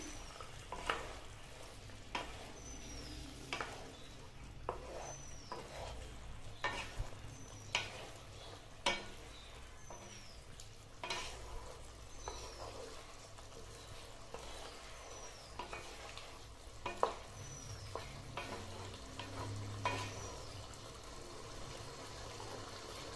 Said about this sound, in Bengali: পটলটা ভালোভাবে সেদ্ধ হোক আর একটু ভাজা কষানো হোক